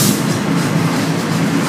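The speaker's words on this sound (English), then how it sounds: "This is FEC train number 224. 427 leading this one." An FEC freight train, number 224, rolling by close and loud as a steady roar of wheels and rail noise with faint clicking, and no talking.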